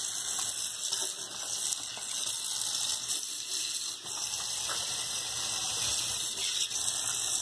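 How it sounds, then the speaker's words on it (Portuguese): Tap water runs steadily into a stainless steel or aluminium sink being rinsed with a cloth after polishing, a continuous close hiss and splash with no speech. "Vamos tirar com um pano com mais água."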